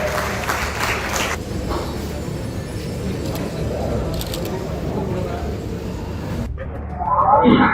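A crowd at a political party gathering applauding in a steady wash of clapping, ending in a louder burst of noise near the close.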